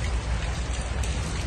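Heavy nighttime downpour pounds down steadily beside a parked cargo truck, a dense continuous roar of rain filling the scene with no talking.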